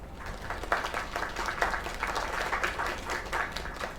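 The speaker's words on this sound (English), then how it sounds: "Another round of applause." A crowd applauds warmly, a dense patter of many hands clapping steadily at moderate volume for several seconds.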